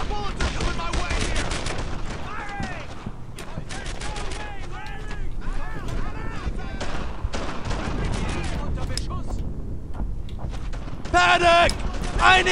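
Sustained gunfire fills a battle in the World War II shooter game Brothers in Arms: Earned in Blood, with dense overlapping rifle and machine-gun bursts, distant booms and a heavier close burst near the end, while soldiers shout over the shooting.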